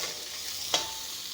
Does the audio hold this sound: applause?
no